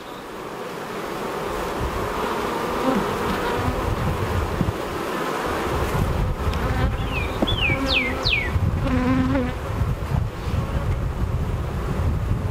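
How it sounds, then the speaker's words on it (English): Honey bees buzzing thickly around a hive, a constant close drone with wind noise over the microphone and a few bird chirps in the distance. "There's a lot of bees."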